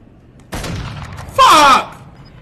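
Bursts of gunfire in a battle royale video game, a broadband crackle starting abruptly and then a louder, sharper volley, mixed with voices talking over the shooting.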